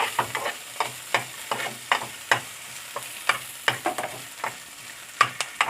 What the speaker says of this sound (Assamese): তেলতে মই পিঁয়াজ, নহৰু, আদা ভাজি লৈছোঁ।